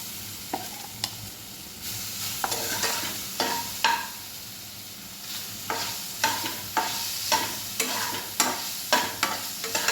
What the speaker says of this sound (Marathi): आणि मग यामध्ये हे सोया चंक्स घालायचे आहेत या पद्धतीने थोडेसे रोस्ट करायचे आहेत आपल्याला हे